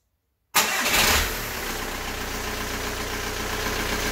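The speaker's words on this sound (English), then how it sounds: "put your oil cap on and start the vehicle" A Volkswagen Golf engine cranks and fires after an oil change, a sharp start surging loud before settling into a steady, close idle with no talk over it.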